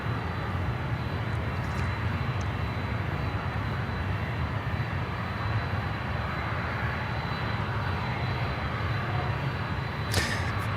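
Jet engines of a LATAM airliner at Miami airport roar steadily and loudly throughout, a continuous broad rumble with no talk over it.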